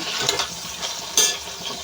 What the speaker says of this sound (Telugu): ఇవైతే ఇప్పుడు ఫ్రై అయిపోతున్నాయండి